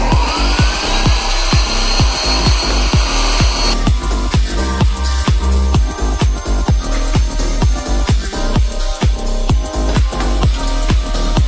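A power saw cuts through wood down a marked line in a rapid, steady train of sharp strokes, loud and close throughout with no talking.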